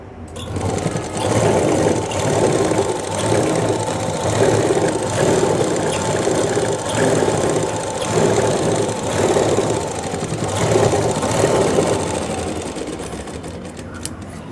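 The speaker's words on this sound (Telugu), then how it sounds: "అలా 3వ కుట్టు కూడా ఇచ్చేద్దాము." A sewing machine runs steadily for about eleven seconds, stitching a blouse side seam with a continuous, even mechanical whir, then slows and stops.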